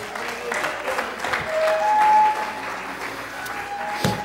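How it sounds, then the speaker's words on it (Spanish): A church congregation breaks into applause for the King during a sermon, clapping under a sustained tone and faint voices. "Dale un fuerte aplauso al Rey"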